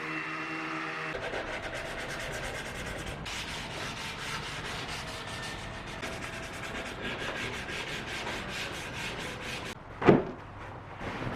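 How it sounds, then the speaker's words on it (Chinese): Steady, continuous abrasive rubbing of sandpaper on wood, close and even in rhythm, sanding the edges of a floating shelf, with a brief louder knock near the end. "然后打磨一下，再把边边也稍微打磨一下。"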